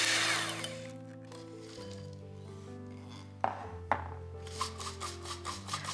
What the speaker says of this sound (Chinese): 先低速打发，直到黄油完全软化